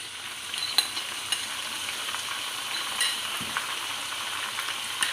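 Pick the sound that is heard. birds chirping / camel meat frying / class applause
camel meat frying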